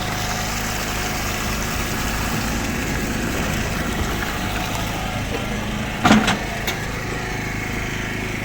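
A petrol engine driving a pump runs steadily nearby with a constant droning hum, and a brief clatter shortly after the midpoint.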